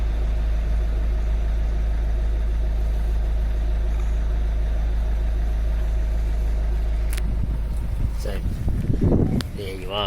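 Exhaust of an idling Citroen C4 Grand Picasso with a 1.6 HDI turbo diesel drones steadily at close range, a low, even rumble that is broken near the end by brief handling noises and a few clicks.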